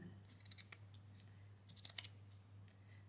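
Scissors snipping through a crochet doily, a few quick, quiet crisp cuts in short clusters over a low steady background hum; no talking.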